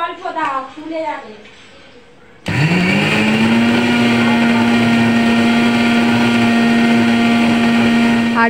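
A mixer grinder starts up abruptly and grinds soaked masoor lentils into paste, a loud steady motor whine running without break after a short stretch of speech at the start.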